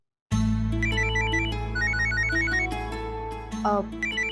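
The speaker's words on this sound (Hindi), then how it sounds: "माँ का फोन है, मैं अभी आती हूँ।" A melodic electronic ringtone plays continuously over a low steady hum, repeating its short tune, loud and close.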